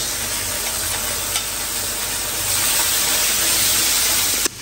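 Green chillies sizzle and hiss steadily in a hot pan, a continuous bright frying crackle with occasional stirring bumps, close and loud throughout with no voices.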